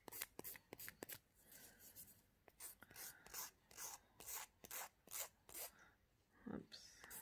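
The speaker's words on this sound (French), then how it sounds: "Donc là, on lime. On relime les côtés aussi." A nail file rasps along the sides of a fingernail in quick repeated strokes, a close, dry scratching rhythm of short bursts with brief gaps.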